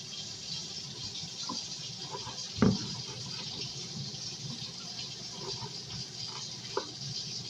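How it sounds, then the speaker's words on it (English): Tap water runs steadily as food is rinsed under it, a continuous hiss with a clunk partway through and a few faint rattles. "Rinse this off. Wash it off."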